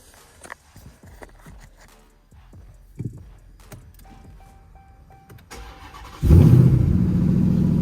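Quiet clicks and small movements, then a Ram 1500 TRX pickup engine, unstarted for about a month, cranks and roars to life, settling into a loud, steady rumbling idle.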